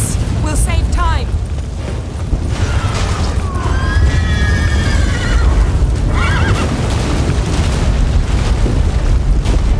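A horse whinnies and neighs several times in the video game The Witcher 3, the calls rising over a loud rumbling, booming backdrop with hoof clatter mixed in.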